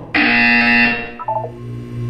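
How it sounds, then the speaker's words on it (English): A buzzer in the video game Portal 2 sounds one loud, harsh electronic tone lasting about a second, then fades into softer, lower tones. "When you hear the buzzer, look down at the floor."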